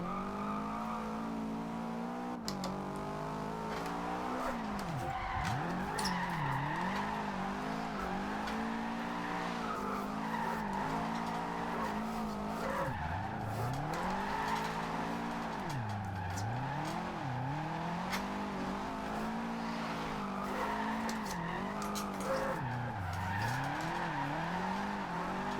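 A Subaru WRX STI drifts through a corner in the Forza Horizon 2 racing game, its engine droning and revving as the tires squeal long and continuously, with no talking.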